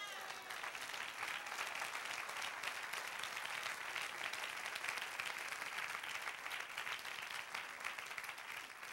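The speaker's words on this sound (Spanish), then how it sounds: "Dale un aplauso al Señor" A church congregation applauds during a sermon, a faint but continuous roar of clapping from many hands, steady and unbroken with no voice on top.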